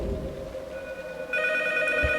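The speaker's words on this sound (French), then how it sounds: "Et le téléphone sonne." A telephone rings in the horror video game P.T. (Silent Hills), a short electronic ringing tone entering over a low ambient hum, fairly faint.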